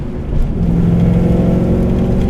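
A 1969 AMC Rambler wagon hot rod engine pulls hard with a steady, loud mid-range drone, the revs holding through a corner after a gear change, with no voices over it.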